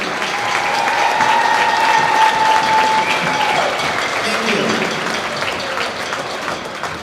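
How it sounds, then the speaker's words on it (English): At a boys high school basketball regional game, a crowd in a gym claps in sustained applause that swells and then slowly fades, with a few voices audible in the mix. "One more round of applause"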